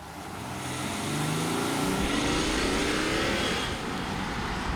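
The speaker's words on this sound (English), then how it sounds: "It's that familiar diesel clatter" A BMW X5 diesel engine clatters and rises in pitch as the SUV accelerates, a loud, rough rattle heard close by from outside.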